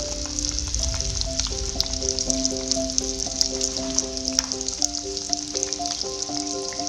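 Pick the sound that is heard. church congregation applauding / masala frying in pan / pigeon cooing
masala frying in pan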